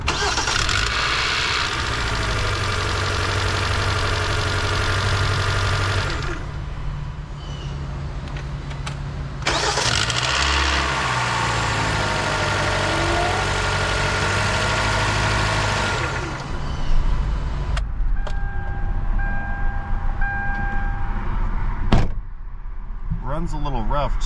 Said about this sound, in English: Let us initiate engine starting sequence and witness our cold start rattle noise.